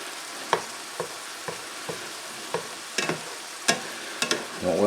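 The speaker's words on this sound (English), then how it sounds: "we just want to do like a scrambled egg type deal here" Eggs scrambled in a frying pan for shrimp fried rice, with a steady soft sizzle and a run of sharp scraping strokes as a utensil chops and stirs them, close and alone.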